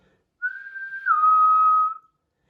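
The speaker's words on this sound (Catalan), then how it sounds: "tinc el xiulet de l'àguila, ara és el moment de fer-lo servir" An eagle whistle sounded again, one loud, close, sustained tone lasting under two seconds that steps down slightly in pitch midway, with nothing else around it.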